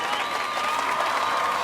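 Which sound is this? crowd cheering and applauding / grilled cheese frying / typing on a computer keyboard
crowd cheering and applauding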